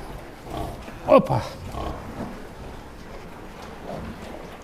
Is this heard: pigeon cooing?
no